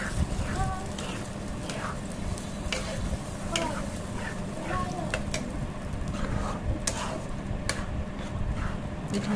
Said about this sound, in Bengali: এখন এটা ভালো করে নাড়তে হবে,